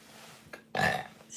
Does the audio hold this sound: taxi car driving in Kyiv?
no